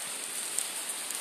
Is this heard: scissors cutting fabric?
no